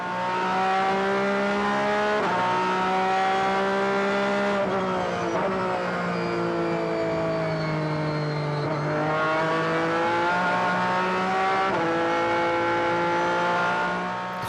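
Endurance race cars at a 2020 World Endurance Championship event, with an Aston Martin running wide, loud sustained engine drone rising and falling through gear changes for the whole stretch, no voices.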